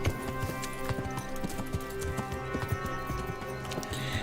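A war horse gallops in Kingdom Come: Deliverance, its steady, rapid clip-clop hoofbeats running close and clear, with a brief whinny and no talk over it.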